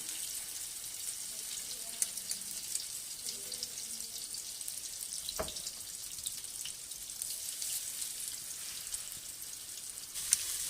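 Fish frying in a pan gives a faint, steady hiss of sizzling oil throughout, with a single soft knock midway and no voices.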